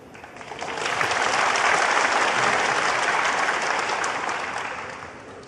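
At a snooker semi-final of the Shanghai Masters 2024, a crowd of supporters breaks into loud, sustained applause with some cheering that swells over a second, holds steady for several seconds, then fades.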